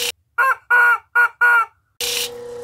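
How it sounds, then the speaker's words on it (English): A chicken gives a close, loud series of four or five clipped squawking clucks in quick succession, followed by a harsher noisy burst. "Freaking chicken anyway."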